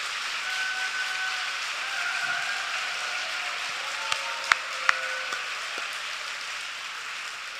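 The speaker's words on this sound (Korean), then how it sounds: "또 박수 크게 치지 마세요" A church congregation at an evening revival service claps in a steady wash of moderately distant applause, with a few sharp isolated claps standing out near the end.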